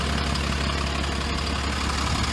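An Alexander Dennis Enviro 400 MMC bus engine idles with a steady, low droning rumble, constant and close, with no talk over it.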